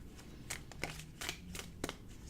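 Cards riffle and snap in short bursts, several quick shuffles close by with brief pauses between, quiet and crisp.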